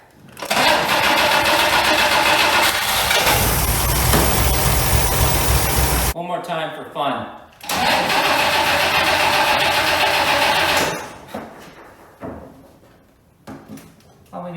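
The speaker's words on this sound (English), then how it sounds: "I can't believe that it was idling." An old AMC Rambler engine, left abandoned for 47 years, roars steadily for several seconds, cuts out, then runs again before dropping to a rough idle, with someone talking over it.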